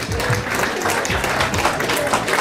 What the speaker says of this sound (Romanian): Haideți, vă rog, să primim cu aplauze!